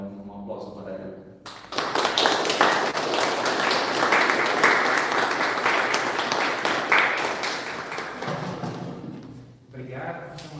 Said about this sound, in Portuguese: e um aplauso para ele